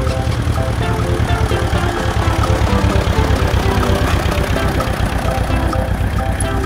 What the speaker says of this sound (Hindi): ट्रैक्टर उसके घर जाने लगा।